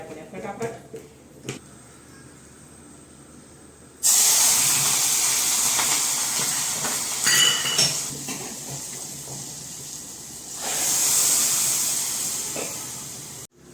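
Spices hitting hot oil for a vaghar tempering for kadhi in a home kitchen, a loud sudden sizzling hiss that flares up, eases, then surges again, with someone talking before and during it.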